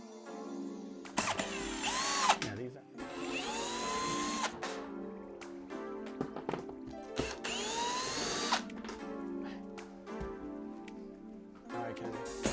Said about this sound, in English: this metal bracket here, we're just gonna pull the 4 screws out